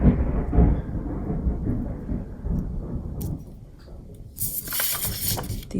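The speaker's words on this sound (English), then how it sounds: "The thunder is crazy outside." Low rumbling thunder rolls outdoors, a long heavy low-end growl through the first half that fades, followed by a brighter, hissy crackle near the end, with no talking.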